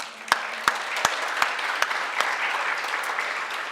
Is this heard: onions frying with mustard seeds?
no